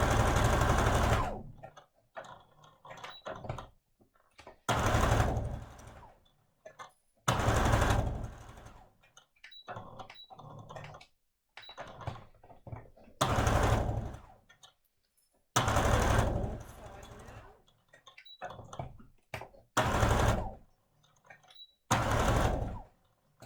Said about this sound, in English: you can see there that I've stitched all the way around the square